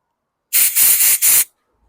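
Carb cleaner sprayed into the carburetor of a 2017 Craftsman mower with a 140cc Zongshen engine: four quick, loud hissing aerosol bursts in close succession, close up, with no talking.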